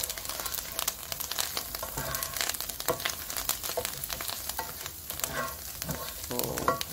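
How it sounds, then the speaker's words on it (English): Moong dal stir-frying in an electric pan, a dense steady sizzle with constant rapid scraping and stirring strokes, close and even throughout. "We'll wash it and we need to stir fry it."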